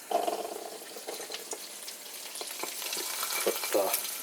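Eggs sizzle steadily in a pan for everything bagel sandwiches, with a constant close frying crackle and light stirring or scraping noises.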